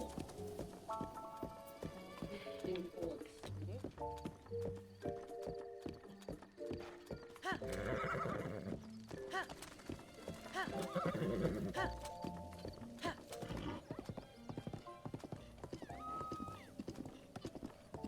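Clip-clop of a horse's hooves and a whinny from a video game, heard under background music with a brief spoken word.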